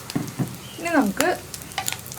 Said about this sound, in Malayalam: ഞാൻ ഇതിലേക്ക് കുറച്ച് വെളിച്ചെണ്ണ ചേർത്ത് കൊടുക്കുകയാണ്.